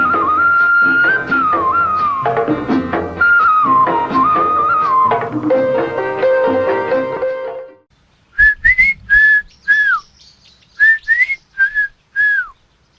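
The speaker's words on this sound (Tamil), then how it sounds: "என்ன வீட்டுக்குள்ள வர்றப்பவே விசில் சத்தம் தூள் பறக்குது?" A person whistles a bright, tuneful melody in several short phrases with brief gaps, clear and close, right after a stretch of music fades out in a Tamil radio drama.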